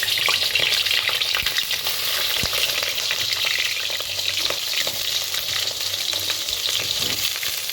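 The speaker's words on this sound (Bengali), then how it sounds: "এবার আমি তেল গরম হয়ে গেছে এবার বেগুনটা একটু ভেজে নেব" Pieces of eggplant fry in hot oil, a dense steady sizzle and crackle close by, with faint stirring scrapes and no talking.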